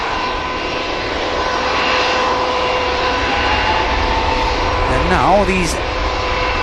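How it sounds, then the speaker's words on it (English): IAE jet engines on an airliner at Manchester Airport give a loud, steady high-pitched whine with a continuous roar beneath, and someone speaks briefly near the end. "nice set of IAEs. A nice high pitch whine from these as we get a wave"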